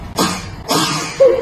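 A child fakes two short, forceful coughs in quick succession, close and loud, followed by a brief high vocal tone.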